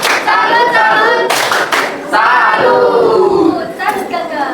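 Children in an Indonesian classroom clap their hands in rhythm while chanting loudly together, a lively group sound with bursts of claps between the chant phrases.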